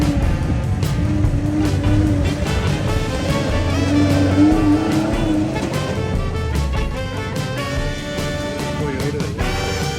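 A small Toyota race car driving a lap at a dam race in Oklahoma: a loud, continuous engine drone rises and falls with gear changes for the whole stretch, close and steady, with crowd or commentary noise underneath.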